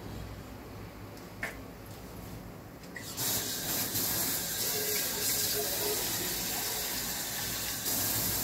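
Spinach boiling in salted water in a pan, a steady broad hiss of bubbling water that grows louder partway through and then holds as a continuous rush.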